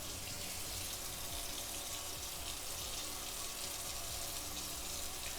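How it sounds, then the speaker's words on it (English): A whisk rinsed under a running kitchen tap gives a steady, even rush of water that stays constant throughout, with no talking. "Also just gonna give this whisk a little rinse-a-roo."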